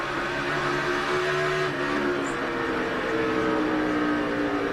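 Onboard NASCAR race car at Bristol's half-mile night race, engine roaring loud and steady at around 130 mph into the corners, with a continuous sustained drone throughout.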